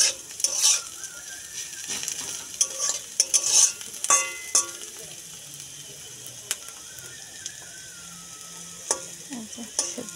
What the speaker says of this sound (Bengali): যে হয়ে গেছে উস্তা ভাজা।